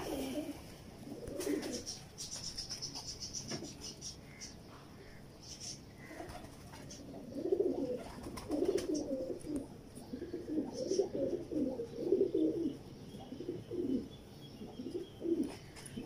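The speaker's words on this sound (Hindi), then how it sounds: "बड़े अच्छे और शानदार नायाब ब्रीडर कबूतर" Soft, low coos from Heera Lal breeder pigeons repeat in a steady series, with a brief faint chirp early on and light background noise.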